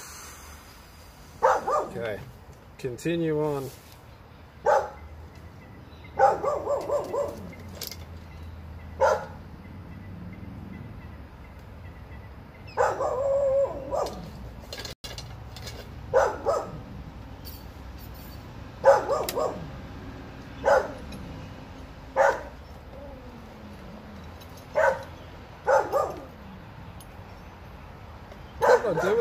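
A dog barks in short scattered bursts with occasional whimpers and yips, moderately near, while someone talks intermittently over a quiet indoor background.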